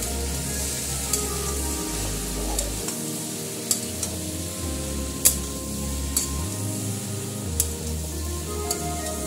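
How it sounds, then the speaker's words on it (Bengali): Spice paste and prawns sautéing and being stirred in a pan for echor chingri (green jackfruit with prawns), with a steady sizzle and repeated scrapes and knocks of the spoon against the pan, close and fairly loud. "এবার আমি পুরো কষিয়ে নেবো ভালো করে।"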